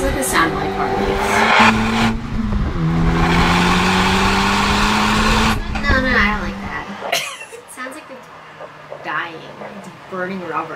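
A Honda Civic Type R engine drones steadily and revs up once, then cuts off, leaving people talking over quieter background noise.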